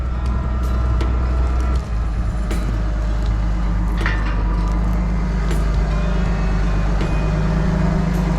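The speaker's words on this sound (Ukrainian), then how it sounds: "Приїжджає трактор." A Massey Ferguson 260-horsepower tractor arrives on a farm, its engine a loud, steady low rumble close by throughout, with occasional metallic clanks over the drone.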